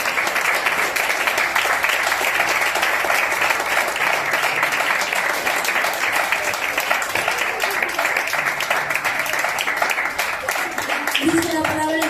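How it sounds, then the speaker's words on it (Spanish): A church congregation claps loudly and steadily for the Lord during a Spanish-language sermon, dense continuous applause filling the space with crowd murmur mixed in and a voice emerging briefly near the end. "Hágale fuerte las palmas al Señor"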